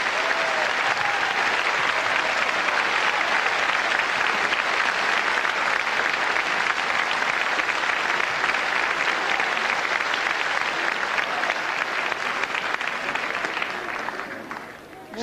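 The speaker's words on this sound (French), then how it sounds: "je vous demande d'applaudir maintenant" Sustained, loud applause from the audience at the televised Miss France 1991 pageant, a thick continuous wash of clapping that holds steady for about fourteen seconds before fading.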